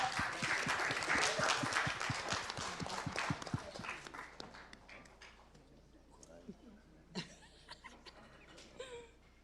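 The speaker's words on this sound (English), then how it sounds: "We can clap? Let's clap." A small group claps for a few seconds at a city council meeting, the applause fading out as scattered voices and room noise take over.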